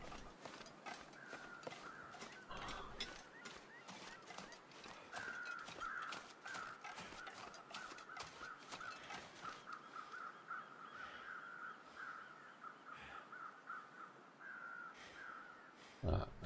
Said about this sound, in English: The crows over the dead guys.